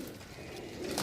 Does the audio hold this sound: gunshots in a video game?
no